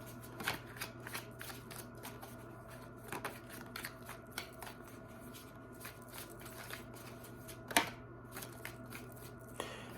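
Tarot cards are shuffled by hand, a close, quiet run of repeated riffling and slapping bursts in an uneven rhythm, with one sharper snap near the end.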